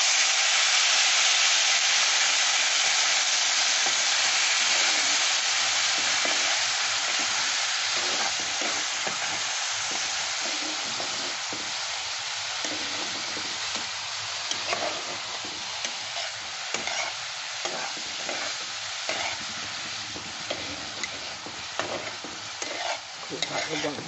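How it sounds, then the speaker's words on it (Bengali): Semai vermicelli for sweet zarda sizzles loudly in a pan as a little water is added. A dense, steady frying hiss runs throughout, with repeated scraping stirs and no talking. "আর এখানে আমি সামান্য জল দেব, মানে খুব কম"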